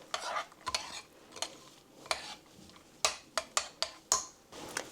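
A spoon stirs yogurt in a bowl, scraping close and clear in about a dozen quick, uneven strokes that become sharper and more regular toward the end, with no talk.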